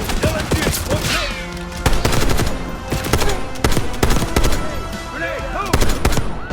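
Light machine gun fire in the video game Call of Duty: Black Ops: loud, close, rapid bursts of automatic shots in quick succession, broken by brief gaps.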